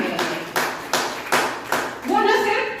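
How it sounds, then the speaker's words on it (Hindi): An audience at a poetry gathering honouring International Men's Day gives a few slow, loud hand claps, evenly spaced, before a voice starts speaking. "मन करता है तो ताली भी बजाइए"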